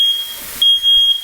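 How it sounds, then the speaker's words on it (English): A smoke alarm set off by cooking smoke sounds loud, high-pitched beeps in a quick pulsing pattern, close by with no talking. "The smoke alarm is over."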